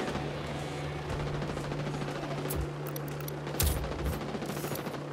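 Sustained gunfire in the video game Ghost Recon Wildlands, a dense continuous rattle of shots with a couple of louder bursts standing out near the end.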